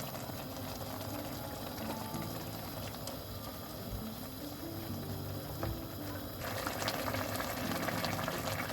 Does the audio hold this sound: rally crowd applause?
no